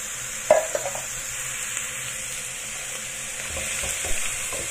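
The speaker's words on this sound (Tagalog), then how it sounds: "I-fry lang natin yan hanggang sa maging mawala yung kulay red niya. Mag-brown ng kaunti." Chicken pieces frying in a pan for Taiwanese-style chicken curry, giving a steady low sizzle throughout with a few brief clinks and stirring scrapes near the start, heard alone without talk.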